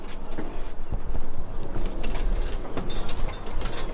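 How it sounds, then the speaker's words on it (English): A 1992 Ford Ranger engine runs loud and rough nearby, its loose exhaust clattering against a clothes-hanger fix in a dense metallic rattle that continues steadily throughout. "You can hear it rattle with the clothes hanger."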